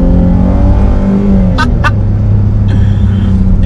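A Chrysler 300 with a V6 and ZF 8-speed automatic, its engine droning loudly and steadily from inside the car, with a couple of brief sharp clicks partway through.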